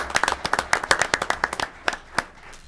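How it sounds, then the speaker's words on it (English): Brief round of hand clapping at a county commissioners' meeting, a small group applauding in a room with sharp, close claps that thin out and stop after a few seconds. "I think we owe her a big round of applause because she worked this thing."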